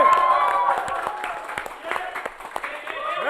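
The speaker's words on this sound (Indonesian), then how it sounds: "Tepuk tangan semua yang ada di sini." A studio audience at an Indonesian talk show claps in sparse, uneven bursts, with voices and some musical tones sounding over the clapping.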